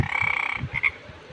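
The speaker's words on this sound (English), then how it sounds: "frog," A frog croaks in a rapid pulsing series, close and loud, with a raspy buzzing tone repeated in quick bursts.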